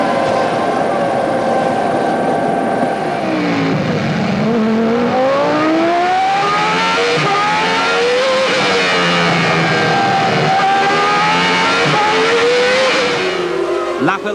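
Formula One cars at the 1995 race accelerate hard toward a hairpin, loud high-pitched engine wails rising and sweeping in pitch as several cars pass close by, with a commentator talking over them throughout.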